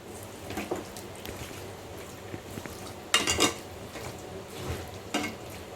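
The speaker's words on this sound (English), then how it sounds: "Turning over all the fishes together with the spices and coriander leaves." Bombay duck fish turned over in a pan with spices and coriander leaves, giving scattered scraping, clinking stirs and a light sizzle, with a sharper clatter midway.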